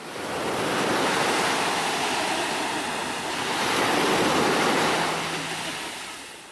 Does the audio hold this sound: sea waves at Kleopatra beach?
yes